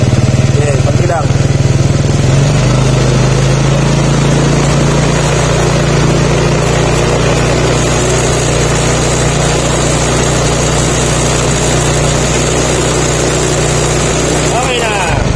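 A Honda Mio Sporty scooter engine idles loudly and steadily up close, with a small rev-up early on before it settles back to a constant low drone, with talk over it.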